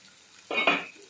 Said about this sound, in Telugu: ఉల్లిపాయని బాగా ఏగనివ్వాలి